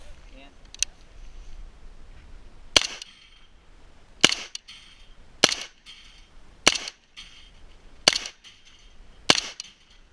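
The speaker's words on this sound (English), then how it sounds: "here is some footage of me firing the gun with the stock folded" Arsenal SLR-104FR rifle fired with the stock folded at 10-inch steel plates about 15 yards away, six sharp, evenly spaced shots ringing out over a quiet outdoor background.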